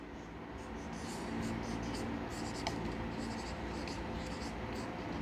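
Chalk or a pen scratches out a line of text on a board in quick, rhythmic strokes, close and fairly clear, over a soft background hum.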